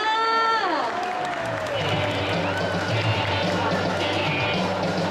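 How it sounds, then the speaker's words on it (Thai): At a Thailand Mobile expo booth, a crowd claps and cheers to welcome comedian Tui Kiatkamol, sustained applause under loud music with a falling tone at the start, and voices mixed in. "ขอเสียงปรบมือให้กับพี่ตุ้ยเกียรติกมลค่ะ"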